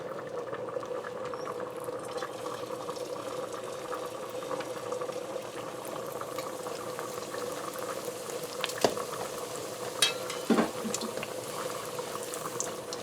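Bara dough fries in hot vegetable oil with a steady, close bubbling sizzle, with a few brief clicks and knocks from handling partway through.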